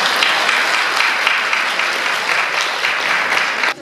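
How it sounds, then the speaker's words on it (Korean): An audience at an opening ceremony of an international folk painting forum in Gyeongju applauds an introduced guest, loud continuous clapping that stops abruptly at the end. "우리가 고마운 마음으로 제가 소개할 때마다 큰 박수 부탁드리겠습니다"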